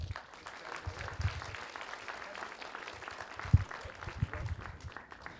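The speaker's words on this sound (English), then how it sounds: "So please give him a round of applause." Audience applause at a festival opening ceremony in a heritage centre, many hands clapping at moderate distance in a steady, soft wash with a few sharper claps standing out.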